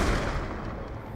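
Gunfire in the video game Call of Duty: Black Ops 2, a loud, dense burst of shots that fills the whole moment without pause.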